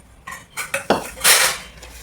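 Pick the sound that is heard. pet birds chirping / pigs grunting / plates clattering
plates clattering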